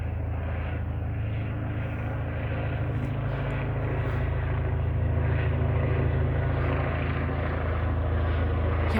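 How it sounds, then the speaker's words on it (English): A police helicopter circles overhead in South Wales, giving a steady, low droning rotor and engine hum at moderate distance that continues evenly throughout, with no one talking. "So the helicopter should be coming back around the corner."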